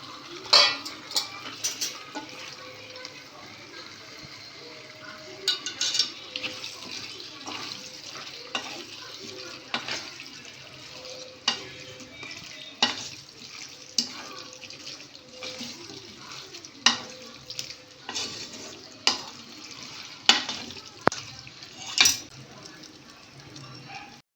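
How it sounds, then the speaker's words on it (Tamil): Washed chicken, half a kilo, is stirred into masala in a pan for Chettinad chicken gravy, with repeated metal spoon scrapes and clinks against the pan over a soft background hiss, moderately close. "வாஷ் பண்ணி வச்ச 1/2 kg சிக்கனை சேர்த்து நல்லா மிக்ஸ் பண்ணி விட்டுறலாம்."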